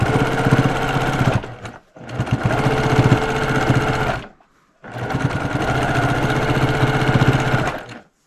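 Sewing machine stitching scrappy quilt blocks together, a steady rapid mechanical whir in three long runs separated by short pauses, close and loud with no talk.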